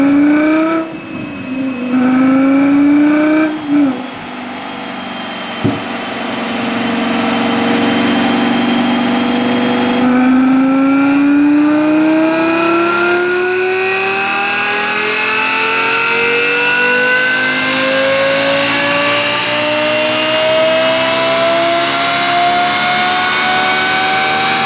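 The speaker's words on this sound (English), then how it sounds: "Lexus LFA." Lexus LFA engine on a dyno: a few sharp revs and blips, then one long, loud, rising wail as the revs climb steadily toward the top, harmonic-rich and close.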